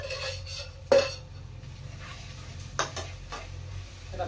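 Spices frying in oil in a pan for matar paneer, a soft steady sizzle beneath a few sharp metallic clinks and scrapes of a spoon against the pan, close and quiet.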